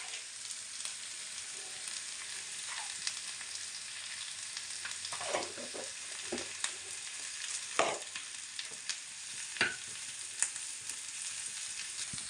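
Onions and cumin seeds frying in a pan for a Punjabi bhurji give a steady, soft sizzle, with scattered clicks and scrapes from stirring and no talking.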